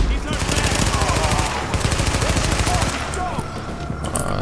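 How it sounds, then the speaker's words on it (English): Submachine gun fire in Tom Clancy's The Division: rapid, loud automatic bursts at close range, with a brief lull near the end. "And let's get the submachine gun out, and take you out."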